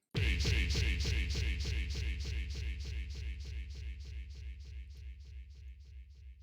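A synthesized sound passed through a TAP stereo echo effect in LMMS repeats as a rapid train of evenly spaced pulses, starting loud and gradually fading over several seconds as the echoes decay.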